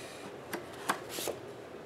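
A few quick snips of scissors cutting through paper, close by, with short crisp bursts and quiet pauses between them.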